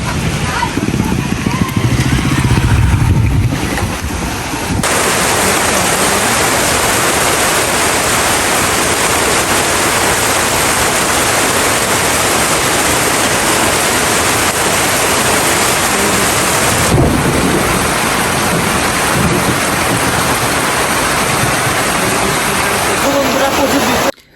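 A storm with wind and rain roars as a loud, dense, continuous wash of noise that stays unbroken throughout, with no distinct thunder claps standing out.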